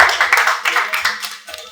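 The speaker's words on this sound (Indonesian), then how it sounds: "Kita beri tepuk tangan" Audience at a poverty-reduction discussion forum clapping, a brief burst of dense hand claps, fairly loud and close, fading slightly toward the end.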